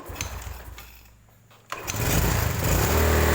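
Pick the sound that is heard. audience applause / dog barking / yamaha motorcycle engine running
yamaha motorcycle engine running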